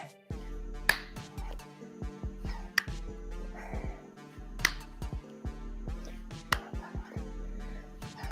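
Sharp hand claps ring out at intervals of roughly two seconds during a swimmer exercise in a high-intensity interval workout, loud and close over steady background music.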